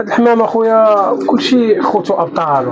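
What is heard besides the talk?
No everyday noises stand out.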